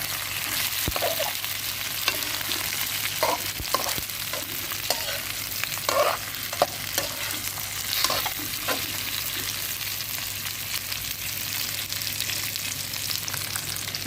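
Beaten egg in a frying pan, mixed with fried eggplant, is stirred over steady sizzling, with intermittent soft scrapes and clinks of the utensil, close up and fairly even.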